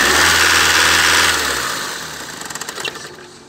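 A diesel car engine with a faulty MAP sensor runs roughly, then dies out when revved, its steady drone fading and sputtering into a few uneven knocks before stopping.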